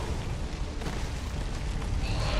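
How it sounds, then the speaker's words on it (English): A distant explosion in the XCOM 2 video game rolls out as a sustained low rumble with a broad hiss on top, steady and heavy for a couple of seconds with no voices over it. "The shockwave of that explosion reverberated throughout most of the city."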